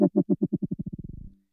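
An Absynth 5 synthesizer patch built on a simple waveform plays a series of tonal pulses that start slow and speed up into a rapid stutter, then die away, heard clean and alone.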